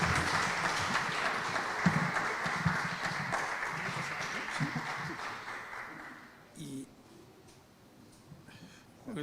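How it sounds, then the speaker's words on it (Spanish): Loud audience applause fills a lecture hall to welcome an economist speaking on promoting national industry in Peru, a steady dense roar of clapping that fades out after about six seconds into quieter room sound. "Lo recibimos con fuertes aplausos."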